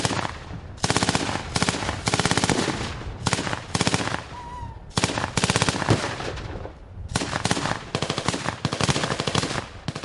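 Blank cartridges are fired from small arms during a military exercise in wooded mountain terrain, loud rapid automatic bursts rattling in long strings separated by brief pauses.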